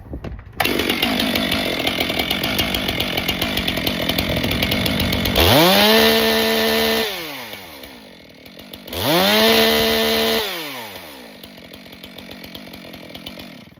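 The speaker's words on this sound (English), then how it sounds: "Now hopefully this time around we have a properly tensioned chain." Chainsaw with a freshly tensioned chain, idling close by and then revved twice, each rev rising into a loud high whine before dropping back to a rattling idle, with no talking.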